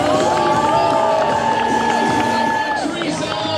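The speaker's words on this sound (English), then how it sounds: "Nice round of applause for Santa and his friends." A crowd cheers and claps for Santa and his escorts at an outdoor Christmas tree lighting in Celebration, Florida. The noise is loud and continuous, with shouts and whoops throughout and tonal music or voices running underneath.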